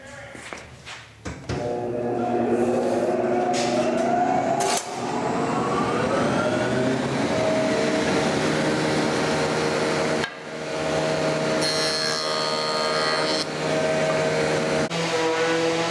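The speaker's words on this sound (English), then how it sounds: "Now we're going to joint our foot, parallel rip it, and joint it again." A jointer and table saw mill a wooden leg in a woodworking shop, giving a loud, steady machine roar that drops out briefly twice before carrying on at full strength.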